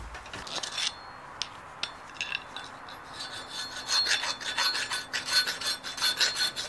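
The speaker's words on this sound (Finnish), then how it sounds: "Mä näytän vähän viilaa ensin tuolle reijälle ja sitten hiekkapaperilla siivu." A hand file rasping at holes in a Valmet 602 tractor brake part, starting with a few isolated scrapes and clicks, then settling into repeated close back-and-forth filing strokes.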